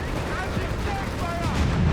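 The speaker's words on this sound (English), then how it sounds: "getting slammed here by all the British and American guns" Battle gunfire from British and American guns in Company of Heroes 3, a dense rumbling mix of shots and blasts at moderate loudness, running continuously under a caster's voice.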